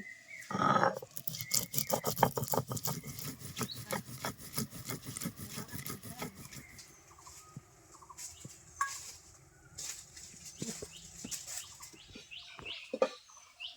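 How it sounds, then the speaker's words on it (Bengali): Black mustard seeds are ground with a little water on a stone for a Bengali mustard-stalk dish, a rough rhythmic scraping and rubbing, loud and close at first, then easing into softer, sparser strokes with a few knocks. "এগুলো আমাদের নিজেদের জমির সরিষা একটু জল দিয়ে বেটে নেব"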